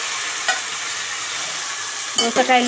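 Cucumber pieces and curry leaves fry in hot oil with a steady, bright sizzle, broken by a few scraping stirs near the end; no one speaks.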